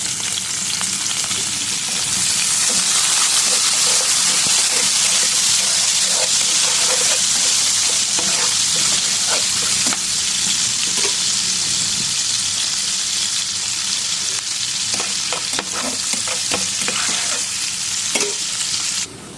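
Onions and chicken frying in a pan of oil, browning with a loud, steady sizzle and hiss that runs throughout, broken by occasional stirring scrapes and clinks.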